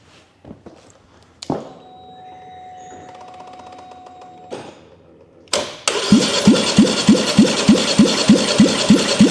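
Polaris Sportsman 850 ATV engine cranking over on the starter for a compression test, a steady run of rapid rhythmic cranking pulses after some nearby clunks and shop handling noises.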